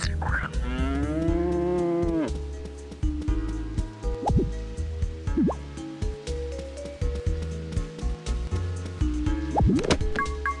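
Video-game farm cows mooing, a long drawn-out moo at the start followed by shorter bovine calls and clicks, with light liquid dripping sounds scattered throughout.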